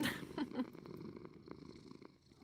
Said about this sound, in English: her purrs are quite, loud